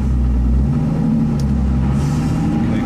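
A drift car on a track accelerates into a corner, and a loud low engine rumble and drone holds steady from inside the car throughout, with no clear talking.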